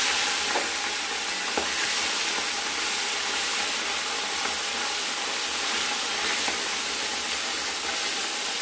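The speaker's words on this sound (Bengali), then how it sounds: "তেলটা গরম হয়ে গেছে, এবার আমরা মাছ ছেড়ে দেব।" Small puti fish fry in hot oil with a steady, dense sizzling hiss that stays even throughout, with occasional faint pops and bubbles.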